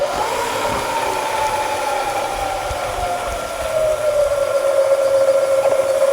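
A machine tool, likely a lathe, spins down to 750 RPM in a luthier's workshop while fitting archtop guitar tuning machines, giving a steady, loud mechanical whine whose pitch drifts lower and settles into a sustained tone without talk.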